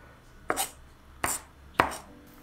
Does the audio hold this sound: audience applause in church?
no